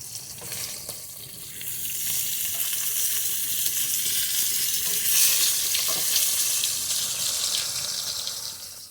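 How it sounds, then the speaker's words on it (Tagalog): Steady oil sizzle and crackle of boneless milkfish from Dagupan frying in a pan, loud and continuous with a few sharper pops, no voices. "Nagluluto tayo ng prito ng bordis bangus"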